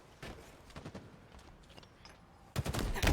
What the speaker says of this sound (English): Oh, that was a good fucking grenade bounce.